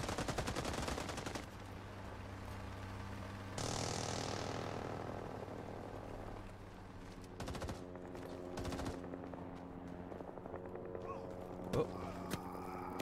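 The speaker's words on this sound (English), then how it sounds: "shots nearby." Gunfire from nearby in the Vietnam War shooter Rising Storm 2: Vietnam, with machine-gun bursts and single shots cracking over a steady drone of aircraft and battlefield ambience throughout.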